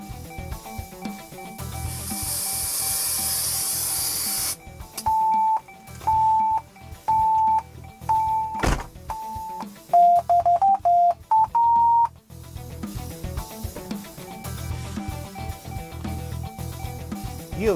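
Car audio tuner running its setup routine: a burst of hissing pink-noise test signal, then a series of evenly spaced beep tones ending with a quick rising chirp sequence, over faint background noise.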